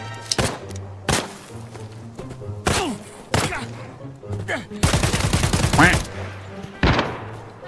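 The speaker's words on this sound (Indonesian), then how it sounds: "Ya ada sniper." Gunfire in the Arena Breakout shooter game with a Mosin rifle in play: several sharp shots spaced a second or so apart and one dense burst in the middle, heard over a low steady hum.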